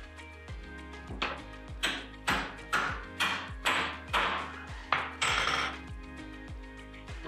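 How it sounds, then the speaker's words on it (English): Hammer blows drive a hinge pin back into a door hinge on a bathroom door, about ten sharp metallic taps in a steady rhythm, close and fairly loud with no talking. "Now we can hammer the pin back in."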